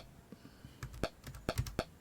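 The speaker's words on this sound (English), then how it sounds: "There's also a slight clicking sound every time you press a key." Quick keyboard clicks tap out an uneven typing rhythm, close and fairly quiet, with several sharp keystrokes in a row.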